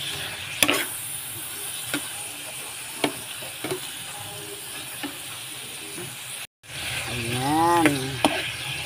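Shrimp sizzle softly in a pan with occasional clicks and stirring taps, then tomato sauce goes in and the frying swells louder; a brief whistling, fluttering tone rises near the end.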